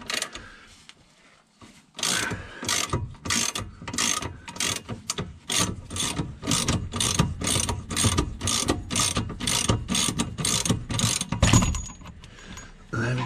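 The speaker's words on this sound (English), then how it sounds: "And then we can get our ratchet on there." A ratchet wrench cranks on the rear suspension spring fittings of a Kia Picanto, giving a long run of regular, close, loud clicking strokes after a brief quiet start.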